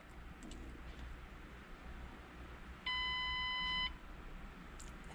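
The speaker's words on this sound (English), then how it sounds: "It's doing some beeping noises." A car diagnostic tool plugged into a Ford Mustang GT500 gives a single steady electronic beep lasting about a second while clearing trouble codes, clear over quiet background hum.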